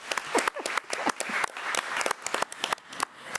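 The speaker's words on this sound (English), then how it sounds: "Let's give her a round of applause." Applause breaks out for a coach at a school board meeting, a modest group clapping in dense, uneven bursts close by, fairly loud and without talk.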